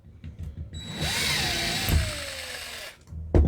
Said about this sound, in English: That should get me enough room to drill this rivet out now.